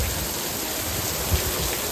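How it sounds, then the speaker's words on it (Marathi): Heavy rain pours steadily during a rainy-season day in Konkan, a dense, even wash of noise with no voices and one faint thud partway through. "खूप जोरात पाऊस आला"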